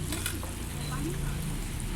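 Bananas frying in hot oil at a Vietnamese street food stall on Tran Van Danh street, a steady close bubbling sizzle that runs throughout, with faint background activity around it.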